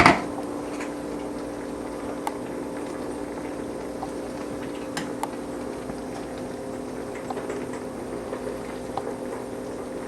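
A pot of sarma bubbles on a steady low simmer, a soft continuous burble with occasional small pops, close and quiet with no talking.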